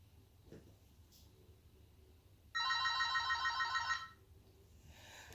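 A phone rings in a quiet room: a single loud, bright electronic ringtone burst of warbling repeated tones lasting about a second and a half, then cutting off, with faint background noise around it.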